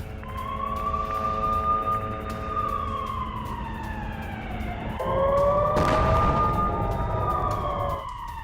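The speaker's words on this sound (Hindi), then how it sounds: "दोनों जगहों पर बज रहे हैं सायरन और एक्टिव हुआ डिफेंस सिस्टम" Air raid sirens wail over Tel Aviv or Jerusalem during a missile attack, with long rising and falling tones overlapping loudly and continuously, and a second siren swelling in partway through.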